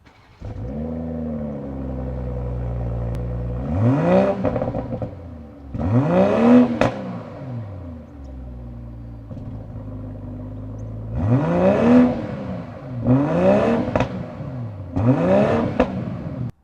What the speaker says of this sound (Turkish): Sırada bu egzozları deneme sırası.